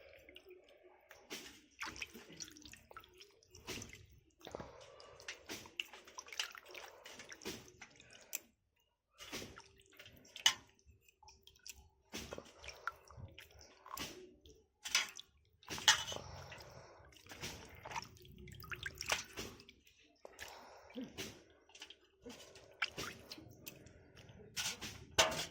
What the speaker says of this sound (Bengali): ভালো করে তাও ধুয়ে নিচ্ছি।